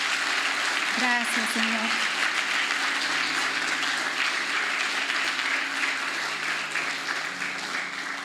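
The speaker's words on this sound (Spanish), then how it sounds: "Un fuerte aplauso a Jesús." Sustained applause from a church congregation fills the room, steady and loud throughout, with a voice speaking briefly over it near the start.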